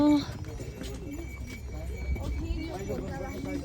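Horses carry riders up a crowded uphill trail near the Muktinath temple in Mustang, their hooves clip-clopping in a steady rhythm amid background crowd chatter.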